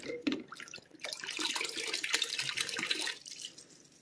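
Tap water splashes and runs over a plastic water container from an endoscope cleaning setup as it is rinsed, a close, steady hiss of flowing water with a few drips and clatters.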